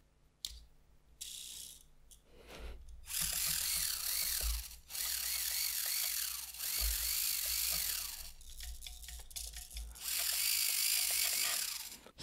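A Kyosho Mini-Z MR03 rear-wheel-drive RC car with a stock motor and an ASF board, running on XTAR Li-ion AAA batteries, whirs in repeated bursts of several seconds each with short pauses between them. Each burst carries a high whining rise and fall.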